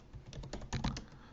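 Quick, close typing on a computer keyboard, a short run of light clicking keystrokes lasting just over a second with no speech.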